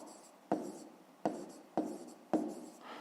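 A pen writes out the answer to a fifth-grade maths exercise by hand, giving four soft, evenly spaced scratching strokes close to the microphone in a quiet room.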